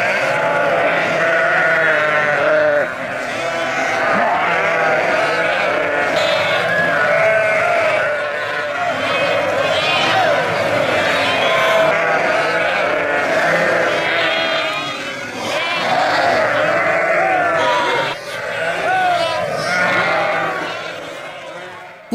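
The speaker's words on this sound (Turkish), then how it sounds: "Buluşma saatinin yaklaşmasıyla koyunlar dışarıda, kuzular ise ağlarda melemeye başlıyor." Sheep outdoors and lambs penned in nets bleat in a dense, continuous chorus, loud and close, with a voice speaking over the flock.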